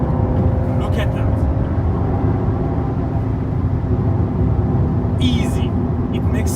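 A BMW M135i accelerates hard while overtaking on an open road, its engine a loud, steady drone held in a single gear throughout, with a brief higher whine of passing wind or traffic near the end.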